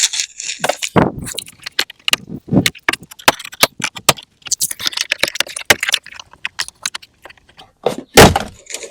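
Clips on a Ford F150 door trim panel being pried loose with a plastic trim tool, a series of sharp close snaps, clicks and knocks in an irregular rhythm with brief quiet gaps between them.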